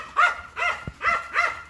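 Dog barking four times in an even rhythm, close and fairly loud, each bark a short, hoarse burst with a brief gap between them and no talk over it.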